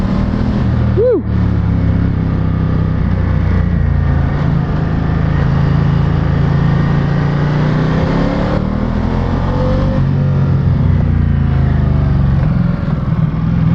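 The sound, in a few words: Ducati Diavel 1260S motorcycle riding and accelerating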